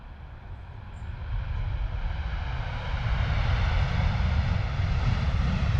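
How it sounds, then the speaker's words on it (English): A Boeing 737 airliner arrives at London Stansted Airport, its deep engine roar building steadily louder as it draws closer, with no voices. "We will grab that 737 arriving shortly."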